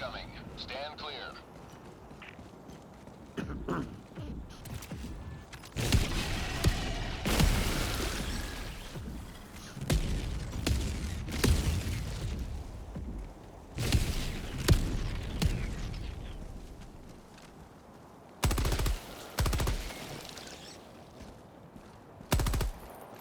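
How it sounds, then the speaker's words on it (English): Orbital barrage strike in Helldivers 2 lands as a string of heavy, loud booming explosions in bursts, with gaps between impacts and a final late blast, while a voice talks at times over the fighting. "Orbital barrage incoming. Stand clear."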